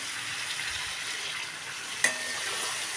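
Boiled potatoes with a splash of water sizzle softly in spice masala, a low steady frying hiss with one sharp clink of utensil against pan midway.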